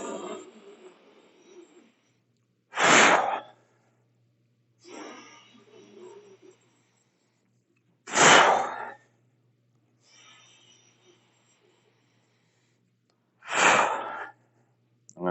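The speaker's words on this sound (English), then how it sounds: "big breath out, big push up" Forceful exhales during squats on a BOSU balance trainer, three sharp loud bursts of breath spaced about five seconds apart, with quieter breathing in between.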